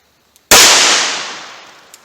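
A single sharp, loud report from a 4-inch .38 Special revolver firing an Underwood 158-grain round, cracking out suddenly and then ringing away in a long fading tail, with brief faint clicks before and after.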